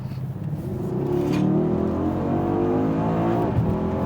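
A 2021 Mercedes GLS 63 AMG three-row SUV engine in Sport mode revs under throttle: a loud, steady, rising engine roar that swells after the first second and holds close throughout.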